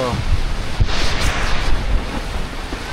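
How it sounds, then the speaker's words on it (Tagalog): Strong wind buffets the microphone in loud, rough gusts, with a continuous rushing hiss like heavy rain beneath. "Hirit pa ang malakas na ulan. At malakas na hangin."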